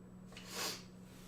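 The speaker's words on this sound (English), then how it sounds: "We got the sniffle still." A single soft sniffle from someone with allergies in North Arkansas, a quick nasal inhale rising and fading within a second, faint and close with a low hum behind it.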